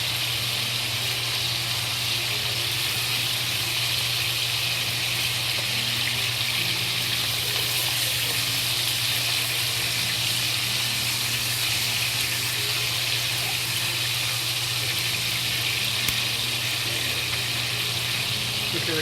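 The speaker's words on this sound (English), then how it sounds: "Okay, we cover it, keep it frying" A steady, dense hiss of green peppers frying in a pan, continuous and fairly loud throughout with no talking.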